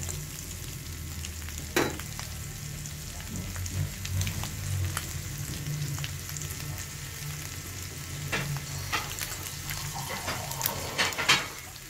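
Steady sizzling and frying from a pan of boiled, tender spicy pork ribs as a little water is added, a continuous crackling hiss with occasional louder pops and clinks, close and unbroken.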